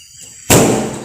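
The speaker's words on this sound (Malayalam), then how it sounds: "ഇപ്പൊ നല്ല ഉഷാറിൽ പടക്കം പൊട്ടുണ്ട് കേട്ടോ." A single loud firecracker bursts sharply and close by at a New Year celebration. Its crackling roar follows a quiet stretch of faint background noise and keeps ringing out to the end.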